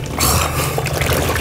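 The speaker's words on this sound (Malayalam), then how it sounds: "നൈസായിട്ട് മുക്കി വെള്ളം കയറി" A container dipped into a stone-lined well fills with a brief, close gurgling rush of water, heard alone for about a second and a half.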